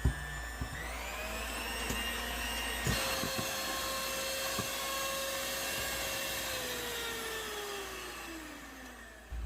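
An electric mixer whirs steadily as it beats eggs with granulated sugar and vanilla, a constant motor hum with a slowly shifting pitch that winds down near the end, close and fairly quiet.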